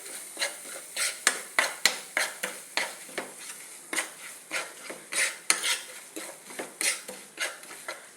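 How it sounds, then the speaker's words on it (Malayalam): Chili powder frying in hot oil for a ginger curry, with a spoon scraping and stirring the pan in a steady run of close clinks and scrapes over a soft sizzle. "ആ എണ്ണയിലേക്ക് മുളക് പൊടി ഇട്ട് മൂപ്പിക്കുന്നു."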